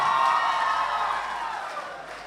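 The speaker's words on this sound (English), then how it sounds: "Please, a round of applause." Audience applause and light cheering at a Miss Western Province beauty pageant in the Solomon Islands, a short dense burst of clapping that fades slightly over two seconds.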